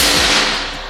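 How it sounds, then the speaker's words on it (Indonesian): A single PCP air rifle shot at a 25-meter range, a loud sharp crack that fades quickly, heard alone. "Kita coba tembakan yang kedua."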